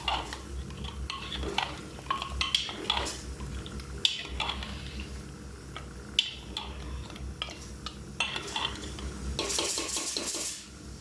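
Mutton with yogurt is sautéed in a pot for haleem, with repeated clinks and scrapes of a spoon against the metal over a low frying background, close and irregular.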